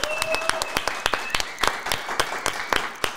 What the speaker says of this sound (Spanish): Quiero que me reciban con un fuerte aplauso a Silvestre Gong.